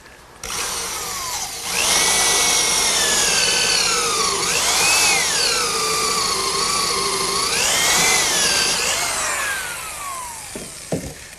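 A power drill boring a 1.25-inch counterbore into wood for a 4-inch lag bolt on a picnic table, a loud whining motor that rises and dips in pitch under load for about ten seconds before stopping.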